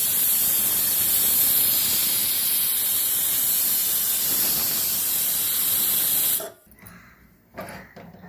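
Pressure cooker whistle venting steam while methi pulao cooks, a loud continuous hiss held for about six seconds before cutting off abruptly, followed by quiet kitchen sounds.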